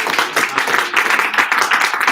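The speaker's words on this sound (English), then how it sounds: "I'm going to give Corey a real round of applause" A small audience gives a round of applause for Corey, with quick uneven clapping from a handful of people nearby, lasting about two seconds.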